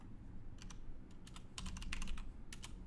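Computer keyboard typing comes in quick irregular bursts of crisp clicks, near and fairly quiet over a low background hum, with no talking.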